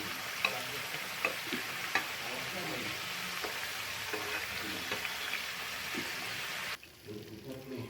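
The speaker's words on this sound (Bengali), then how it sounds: "মিডিয়াম ফ্লেমে রেখে পিঠাগুলো ভেজে নিতে হবে।" Palm fruit pitha cakes fry in oil over a medium flame, giving a steady, close sizzle with occasional small pops and spatters; the frying drops away abruptly near the end.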